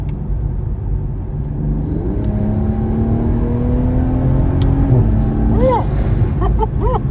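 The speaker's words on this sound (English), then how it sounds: "You hear the blowout valve on that?" A 2022 Toyota Supra engine revs steadily with rising whine and rumble, then a sharp artificial blow-off valve whoosh near the end, heard close and fairly loud without talk.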